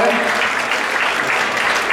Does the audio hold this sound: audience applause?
yes